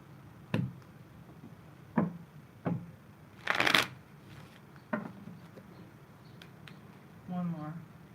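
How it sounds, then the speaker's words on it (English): Tarot cards are shuffled in several short, crisp bursts spaced a second or two apart, with a louder riffle in the middle, close and quiet. "A couple more shuffles."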